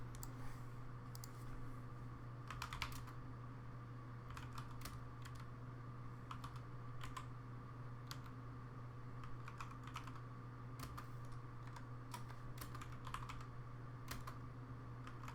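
Rapid, irregular keystrokes on a computer keyboard as Linux commands are typed in Ubuntu, close and crisp over a steady low electrical hum, with no voices.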